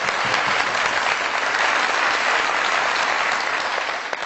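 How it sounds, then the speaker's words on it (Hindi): Studio audience applause on a television talk show, a dense, steady wash of clapping that holds at full strength for several seconds before easing slightly at the end, with no talking over it. "बहुत सारी तालियां साउथ साहब के लिए"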